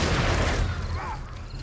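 A blunderbuss firing in the video game 7 Days to Die, a loud close boom at the start that decays into a rumbling tail, with a voice faintly present.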